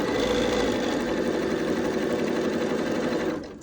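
A sewing machine runs steadily for a few seconds, stitching quilt pieces together in a continuous close mechanical whir that stops abruptly at the end.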